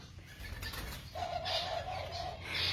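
A wild pied ringneck dove gives a soft, steady coo in the second half, with a brief flutter of wings and faint background noise throughout.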